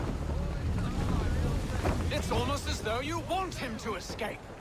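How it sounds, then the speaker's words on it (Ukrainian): Strong wind gusts over open sea in Assassin's Creed 3, a steady roaring rush with water noise aboard a sailing ship, loud and continuous beneath people talking throughout. "вітер дуже сильний"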